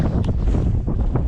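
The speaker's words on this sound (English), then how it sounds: "Some bad gust of winds today." Wind gusting hard across an open Lake District fell, buffeting the microphone in a steady low roar with a brief stronger puff, close and loud throughout.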